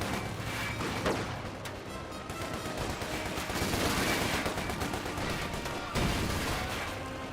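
Cannon and gunfire in a Company of Heroes 2 battle, with an AEC Mark III armoured car under fire: dense, continuous volleys of shots and booms throughout, with sharper blasts near one and six seconds.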